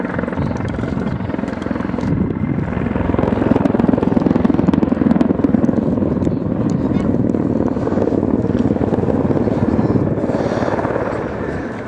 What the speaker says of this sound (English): This one is a Mi35 variant.